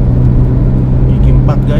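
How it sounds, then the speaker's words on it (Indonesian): Toyota All New Rush accelerating in fourth gear, with a loud, steady engine drone heard from inside the car while someone talks over it. "Ini pakai gigi 4 nih guys. Kita coba gas dengan all new rush."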